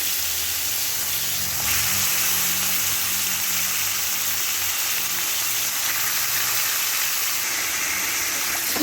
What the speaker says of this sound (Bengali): এবার কড়াইয়ের তেলটার মধ্যে চিকেনগুলোকে দিয়ে দিচ্ছি